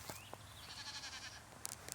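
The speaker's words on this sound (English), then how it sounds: "That's my neighbor's goats." A neighbor's goats bleat faintly from a distance, with a couple of brief wavering calls rising over a low outdoor background.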